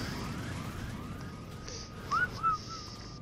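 A character whistles in the video game ARK on PS5, giving a few short chirping whistle tones, the clearest two near the end, over a steady low game-world hum.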